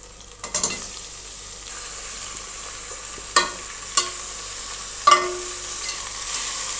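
Mutton frying in a pan with softened onions, a steady sizzle carrying through with a few sharp scrapes and clinks of a spoon against the pan, no voices.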